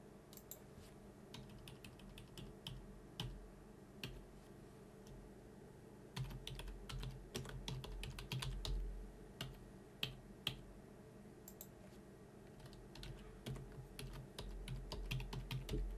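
Clicky keystrokes tapping on a computer keyboard, coming in irregular bursts with short pauses, close and fairly quiet.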